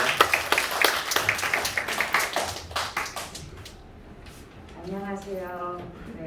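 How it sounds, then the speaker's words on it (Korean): Applause from a church youth-service congregation welcoming a speaker to the front: a burst of many hands clapping for about three seconds, fading into quieter room sound. "환영의 박수가 너무 작아서 다시 한번 박수 드리겠습니다."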